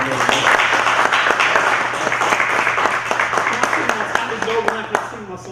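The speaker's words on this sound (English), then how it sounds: "let's give these brothers a round of applause" A crowd applauds with dense, steady clapping that slowly thins toward the end, with some voices mixed in.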